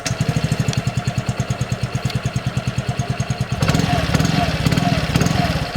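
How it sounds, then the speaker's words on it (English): A Yamaha RayZR 125 BS-6 scooter engine, fitted with a smart motor generator for silent starting, idles close by with a rapid, even chugging pulse, then revs briefly into a rougher, louder run. "We'll start things with the RayZR, and here Yamaha has fitted smart motor generator which brings silent start"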